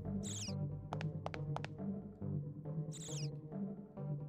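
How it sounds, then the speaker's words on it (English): Birds calling in the video game Parasite Eve 2: repeated chirps and short bright trills, some in quick pairs, over a steady game background with music-like tones. "Birds."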